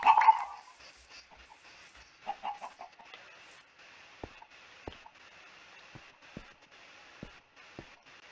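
Chickens cluck in Minecraft, with a louder burst of clucking at the start and then short, scattered clucks and soft pops over a faint steady background.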